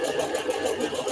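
A sewing machine stitches fabric pieces for a Christmas table runner block, running as a steady, close, continuous mechanical whir with a fast regular chatter throughout.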